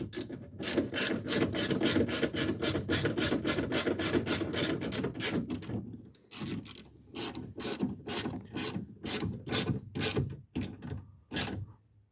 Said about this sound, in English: Let's grab that inverted Torx bit